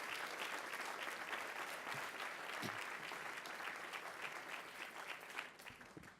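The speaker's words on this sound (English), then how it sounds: "Give them a round of applause." An audience applauds at a University of Massachusetts celebration ceremony, steady sustained clapping from a large crowd filling the hall without pause.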